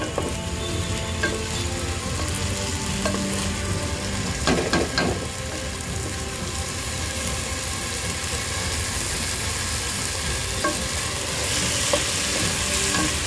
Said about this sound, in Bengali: একটু ভালো করে নাড়াচাড়া করতে হবে যেন এটা লেগে না যায়, মানে এবং ভাজতে হবে।